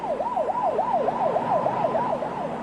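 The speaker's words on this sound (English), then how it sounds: "The Spencerport Volunteer Fire Department was immediately dispatched to the scene, including Chief Gary Penders." Fire truck siren of a volunteer fire department responding to an emergency in New York, a loud, close wailing yelp cycling rapidly up and down about eight times over a low engine rumble.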